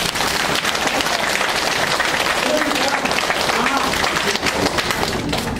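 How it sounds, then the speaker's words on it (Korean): A church congregation at an all-members retreat claps together in a dense, continuous roar of applause that fills the whole stretch, with voices faintly mixed in underneath. "그때 박수 치는 거예요."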